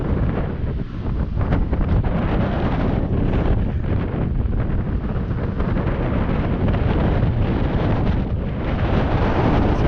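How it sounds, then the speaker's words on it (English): Strong prairie wind buffets the microphone in a constant loud roar, gusting unevenly with no voices. "That's how windy it is out here in the prairie."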